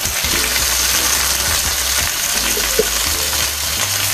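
Chicken wings hit hot oil in a tall pot for chicken afritada, setting off a steady, loud sizzle with a low rumbling hum beneath it.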